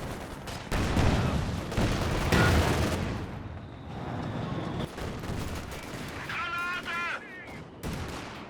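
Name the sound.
gunfire and tank grenade in Company of Heroes 2 video game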